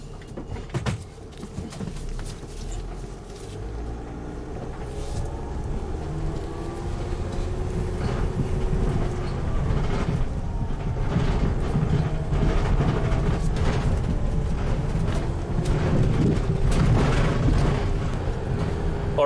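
A Dodge Sprinter van with a turbocharger underboost fault driving on the road, a steady low engine and road rumble that builds slightly over time, close and continuous with no talk.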